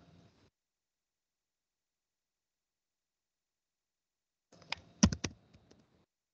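A brief burst of computer keyboard typing in a Linux terminal, a short cluster of sharp clicking keystrokes near the end after a long silence, close and fairly quiet.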